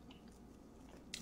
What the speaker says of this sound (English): sorry if I'm being rude by chewing and eating